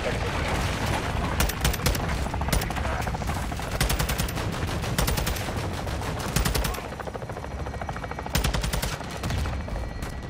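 Sustained heavy gunfire in Call of Duty Modern Warfare II, a prison-breakout mission, with dense rapid automatic bursts and booming shots nearly continuous and loud throughout, overlapping voices underneath.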